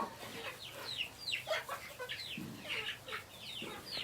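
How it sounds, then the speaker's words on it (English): Backyard chickens peck at kitchen scraps on a farm, making a busy stream of soft clucks, chirps and murmuring calls from several birds close by, with a low throaty cluck partway through and no talking. "See them all eating their scraps here."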